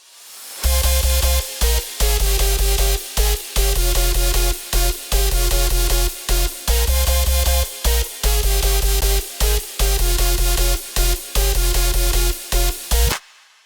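A driving hardstyle intro pounds along with heavy kicks, a bright crash and two ride cymbal samples ringing on every beat, broken by short rhythmic gaps.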